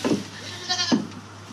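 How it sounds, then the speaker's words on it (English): Goats bleat in a farm pen, two short nasal calls close by with a brief gap between them, over a low steady background hum. "Patient little goats, aren't they?"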